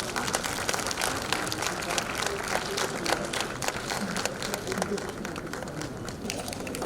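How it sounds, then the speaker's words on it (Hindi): An audience at a silver jubilee celebration claps at length, a steady patter of applause carrying on throughout with a voice speaking over part of it. "जोरदार तालियां बनना चाहिए।"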